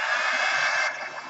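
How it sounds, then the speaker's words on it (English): A hair dryer blowing over wet paint on an art journal page gives a steady, airy whirring hum that drops in level near the end of the brief burst, with no voices. "Now, you can easily go in with your dryer and dry it."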